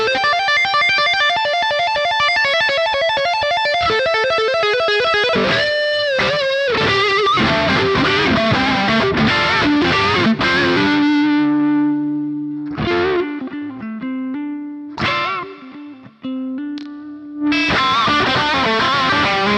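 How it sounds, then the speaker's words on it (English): Electric guitar runs through a Boss Katana amplifier on its mid-heavy, high-gain lead setting, with sustained lead notes, bends and bursts of chords separated by short pauses. "We're going to switch over to the lead sound. And lead sound is going to have a similar gain structure to the brown sound, except it's going to be more mid-heavy"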